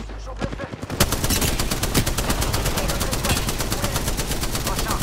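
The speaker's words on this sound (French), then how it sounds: "Putain, je tire au fusil triple au corps à corps" Rapid weapon fire at close quarters in the shooter Apex Legends, a triple-shot rifle, rattles continuously in dense, fast bursts after a brief quieter lead-in, loud and near throughout.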